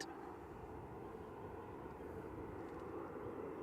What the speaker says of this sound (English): Next on approach is EasyJet coming in from Geneva, A320-200 GEZRY